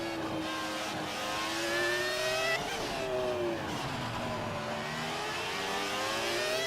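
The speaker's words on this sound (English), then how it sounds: "I really like that V10 sound." A high-pitched V10 racing engine in an F1 2018 classic car revs and shifts through gears, harmonics sweeping up and dropping, loud and steady throughout with no talking.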